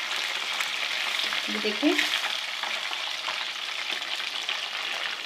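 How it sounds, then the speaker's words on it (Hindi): Fish pieces frying in oil for a fish curry, a close, steady bright sizzle throughout, with a brief spoken remark partway through. "तकरीबन 3 मिनट हो गए हैं मछली को फ्राई होते हुए"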